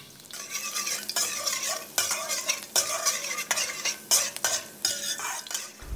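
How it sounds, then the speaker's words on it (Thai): Chopped garlic sizzles loudly in hot oil in a pan while a utensil repeatedly scrapes and stirs, in uneven bursts of clatter and hiss. "เจียวกระเทียมของเราให้หอมเลยครับ"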